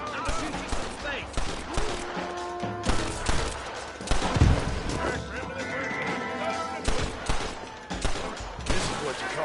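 Gunfire in Red Dead Redemption, PS5 edition, repeated shots and crashing bursts over game music, with characters talking throughout.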